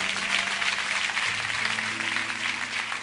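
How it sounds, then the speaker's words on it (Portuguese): A church congregation applauds during an evening service, fairly quiet continuous clapping with sustained organ or keyboard tones held underneath. "Aplaude a Deus aqui nessa noite."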